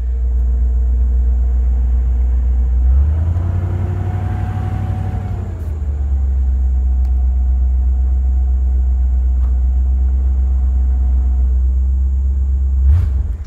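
A truck pulls in with a second load of stone, its heavy diesel rumble rising and swelling midway, then settling into a steady low idle, with a brief air-brake hiss near the end.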